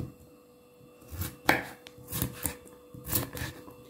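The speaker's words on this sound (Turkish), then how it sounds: "Bakın bu şekilde sapını doğruyorum ki" A knife chops through a broccoli stem on a board in a home kitchen, with several distinct, fairly close knocks spaced unevenly among soft scraping.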